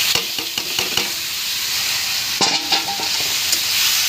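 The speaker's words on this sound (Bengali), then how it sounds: "এই যে ডালিয়া আর ডাল ধুয়ে রেখেছি, দিয়ে একটু কষিয়ে নেবো।" Washed broken wheat (dalia) and lentils stir-fried in a pan, with sizzling frying hiss and several clattering stirs and scrapes of a spoon against the pan, close and fairly loud, no talking.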